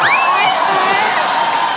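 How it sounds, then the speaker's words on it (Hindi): A studio audience on a comedy talk show cheers and whoops over a loud crowd wash, with rising shouted voices at the start that settle into steady cheering. "जोरदार तालियां होनी चाहिए जरा"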